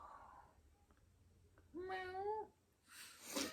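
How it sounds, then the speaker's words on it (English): Cats meow behind a door in two loud, drawn-out cries, the first a long harmonic wail and the second a brighter, harsher yowl, with quiet room noise between them. "I got some angry cats in that door."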